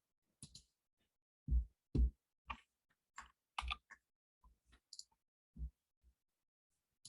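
Sparse computer clicks and taps, about a dozen short, dry, close clicks in irregular groups with silence between them and no talk.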